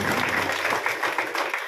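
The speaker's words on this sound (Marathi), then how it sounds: "आपण आपल्या स्वतःसाठी एकदा जोरदार टाळ्या वाजवा" An audience claps loudly and continuously at a close distance, a dense and even patter of many hands with no voices over it.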